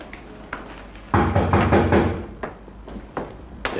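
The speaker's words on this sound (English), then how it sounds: "He knocks on the door." Knocks on the front door of a mansion, reached by a gravel path, come as a few sharp raps against a low steady background, with a denser burst of sound in the middle.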